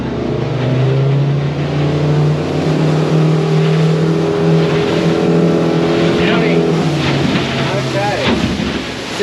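A Bar Crusher boat's outboard engine roars and accelerates hard from a standstill, loud and rising in pitch, with heavy wind buffeting and water rushing past.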